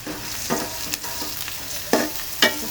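Chopped onion and garlic frying in a pan, a soft continuous sizzle broken by several sharp scraping stirs of a spatula at irregular intervals, close by and unaccompanied by speech.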